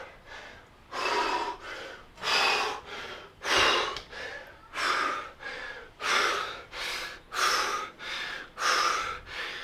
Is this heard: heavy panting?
yes